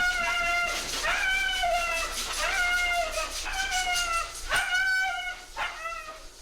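A cat named Luna yowls and screams loudly while being brushed, a run of long drawn-out meows rising and falling one after another, close and insistent with hardly a pause.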